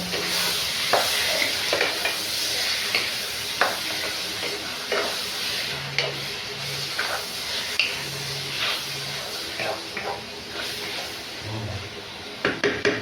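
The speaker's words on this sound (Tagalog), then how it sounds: "Lagay mo yung karne. Hahaluin mo." Goat meat sizzles in a hot pan while a utensil stirs it, giving steady frying hiss broken by scrapes and clinks at close range, with faint background voices in places.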